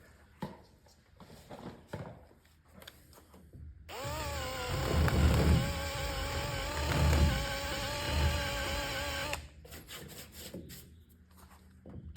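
An eraser wheel working leftover badge adhesive off a car's body panel gives a steady, close rubbing whine for several seconds, with quieter scrubbing before and after.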